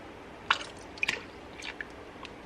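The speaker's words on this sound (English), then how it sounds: "Water, but I'm going to put it in this and swish it around so I can get more of this out." Water swished around inside a crockpot container, a few soft wet drips and sloshes spaced irregularly, quiet and close with no talking.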